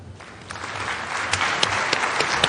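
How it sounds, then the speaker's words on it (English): A crowd claps continuously for Kenya's President William Ruto after a speech, a dense wash of applause with a few louder individual claps standing out. "A round of applause"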